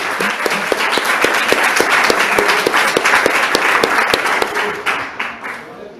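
A church congregation claps at a family service, many hands beating together in a fairly rhythmic, unified pattern that is loud and close, with a voice faintly audible beneath the clapping before it thins out at the end.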